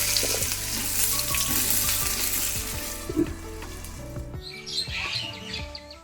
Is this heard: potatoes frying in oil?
yes